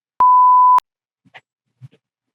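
A single electronic tone from a phone, a steady pure beep lasting about half a second, sounds cleanly once and stops, followed by faint scattered rustles.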